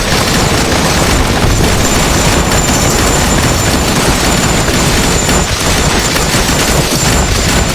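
Dense, continuous barrage of booming cannon blasts and rapid gunfire-like bursts from a battle in the video game Bad 2 Bad: Apocalypse, loud and relentless with no pauses.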